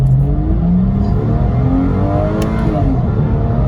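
A Porsche Boxster 986 launching in first gear, the engine note sweeping upward in pitch as it accelerates, loud and close, with a brief click near the end.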